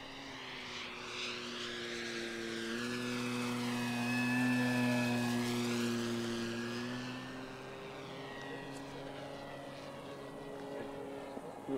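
An RC Czech Mate model airplane flies past with its engine droning, the buzzing tone rising and falling in pitch as it approaches and recedes, louder in the middle, with faint distant voices.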